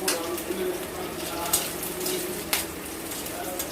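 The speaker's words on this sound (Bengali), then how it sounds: "পটপট করে ফুটছে, লঙ্কা দিয়েছে, লঙ্কার বিচিগুলো ফুটছে।" Garlic and chili seeds crackling in hot mustard oil in a wok for sweet jute greens, a close, busy sizzle punctuated by a few sharp pops, with no voice over it.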